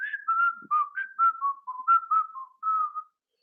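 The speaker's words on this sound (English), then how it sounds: "She's whistling." A woman whistles a short, clear melody of about a dozen quick notes, close and alone, ending in silence.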